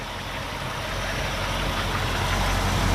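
A 1966 Ford Mustang A code V8 convertible idles steadily, a continuous low rumbling engine drone heard up close, slightly swelling in loudness, with no talking.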